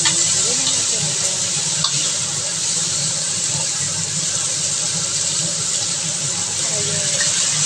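Boiled pasta water poured into a pan for pasta with salted fish, a steady gushing, splashing flow that runs loud and close throughout, with faint room sounds beneath.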